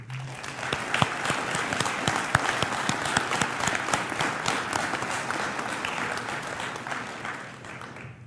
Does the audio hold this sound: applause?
yes